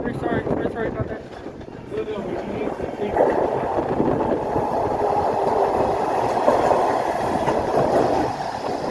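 A Baltimore MTA Maryland Metro subway train pulls into Milford Mill station, its steady rumble and wheel clatter filling the platform and growing louder midway through as the cars roll past.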